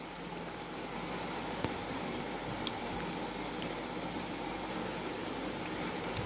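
A quiz countdown timer beeps in four evenly spaced pairs of short, high electronic tones over a faint steady hiss, then goes quiet.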